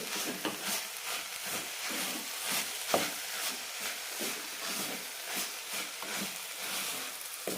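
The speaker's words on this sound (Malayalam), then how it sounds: "രണ്ട് 3 മിനിറ്റ് നന്നായി വറുത്തെടുക്കണം." Rice roasting in a pan for mint veg biryani, a close, continuous sizzle broken by repeated scraping strokes of stirring at a steady rhythm.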